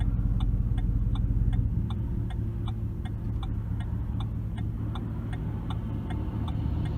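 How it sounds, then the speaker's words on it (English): A 2008 Ford Expedition's engine gives a low, steady rumble while driving, with a faint regular ticking running over it throughout. "Nice and quiet, with just a nice low rumble to go with it."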